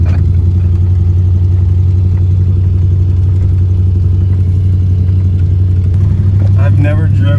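Engine of a 1955 Ford Fairlane project car running steadily at idle, a low continuous rumble close by, with faint voices and some clatter toward the end.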